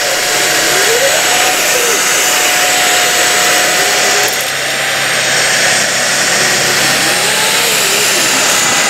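A Tineco Floor One S7 stick vacuum with a motorized spinning brush cleaning a sofa gives a loud, continuous close-up whine and rush of airflow, its pitch shifting slightly as the head moves across the cushions.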